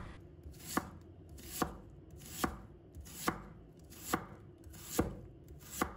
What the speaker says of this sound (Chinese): 再准备半个洋葱，把它头尾切掉不要，再切成丝。